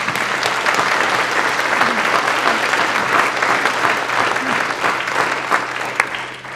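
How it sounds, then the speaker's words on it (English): Loud, sustained applause from the audience at a master teacher award ceremony, dense clapping that stays strong throughout with a faint murmur of crowd beneath. "So let's give them a round of applause."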